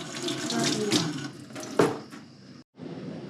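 Warm water runs at low pressure from a tap into a sink while a Performance Machine performance air cleaner filter is rinsed; a steady splashing rush swells and shifts, then briefly cuts out before resuming.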